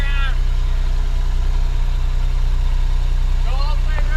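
A boat engine idles steadily after the vessel has run aground in a tropical storm, a loud, constant low rumble with brief voices heard at the start and end.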